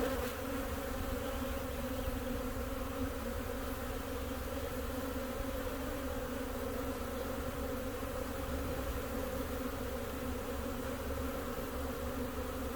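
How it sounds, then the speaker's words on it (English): Honey bees swarm around an open hive during an inspection, a dense, constant droning buzz that stays loud and unbroken throughout with no voices over it. "Now these bees are much less defensive than those ones."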